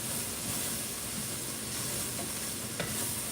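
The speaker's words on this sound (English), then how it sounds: "Start stirring it up." Chicken and sausage stirred in a pot on the stove, with a steady sizzling hiss throughout and a spoon scraping now and then, close and moderately quiet.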